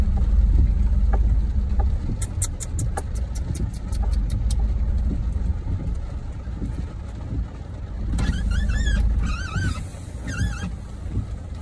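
A car engine labors and revs while stuck in a muddy roadside ditch during rain, a steady low rumble running throughout, with bird chirps and brief squeaky bursts over it.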